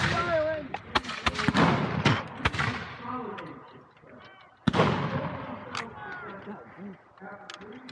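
Cannon and musket fire in a Bunker Hill battle video game, with sharp booming shots scattered over a busy game soundscape while voices talk throughout.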